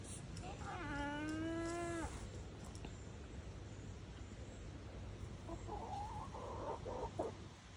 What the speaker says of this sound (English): We are back with the chickens,